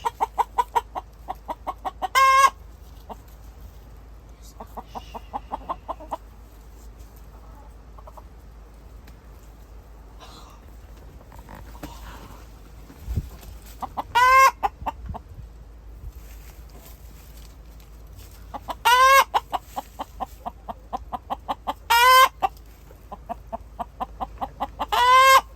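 Laying hens, among them a black hen, cluck in short bursts scattered through a quiet backyard, with loud close clucking clusters near the start and late on, separated by softer stretches.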